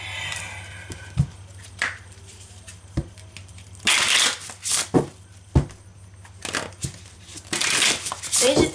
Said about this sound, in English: we're gonna do three more shuffles